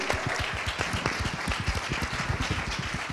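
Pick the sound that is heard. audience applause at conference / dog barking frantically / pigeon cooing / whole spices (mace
audience applause at conference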